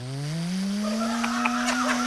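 Small propeller airplane engine opening up to full throttle for takeoff, a steady loud drone whose pitch rises smoothly as it winds up, continuous and close with no talk over it.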